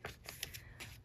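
Photocards being handled and slid into binder pages, several soft papery shuffles and flicks over about a second, close and fairly quiet with no talking.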